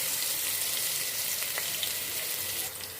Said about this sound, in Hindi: अब इसमें हम लहसुन अदरक का पेस्ट डालेंगे